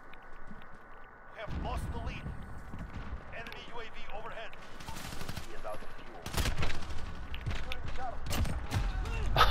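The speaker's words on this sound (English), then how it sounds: "I gotta use my pistol because I ran out of ammo" Pistol fire in Call of Duty: Modern Warfare (beta) cracks out in sharp single shots and short bursts over a busy battlefield mix of footsteps and game noise, with voices present, growing louder toward the end.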